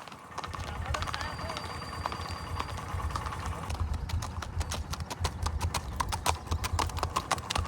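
Steady clip-clop of a ridden horse's hooves on the ground, a rapid rhythmic series of close, distinct strikes that grows sharper and more spaced toward the end, with a person talking over it.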